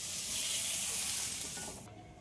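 Fried vegetables hiss and sizzle in a pan as they are stirred, a close steady sizzle that fades and drops off abruptly near the end.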